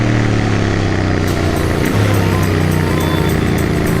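A Jawa Roadster motorcycle overtaking in Bangalore traffic, its steady engine drone close and loud amid surrounding vehicle noise, with faint clicks and a few brief horn-like tones.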